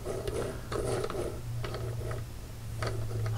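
A vintage Hot Wheels Classic Caddy toy car rolls with a faint ratcheting, clicking whir from its stiff front wheel, coming in a few short bursts.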